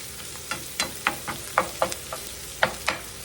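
Bacon frying in a pan on the stove, sharp sizzling crackles and pops arriving in quick irregular bursts, close and fairly loud with no talking.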